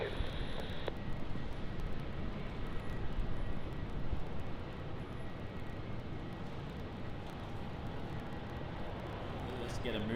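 A Qantas Boeing 717 jet taking off from runway 01 right at Brisbane Airport, its engines a broad, distant rumbling roar that swells then eases slightly, heard with no talk over it.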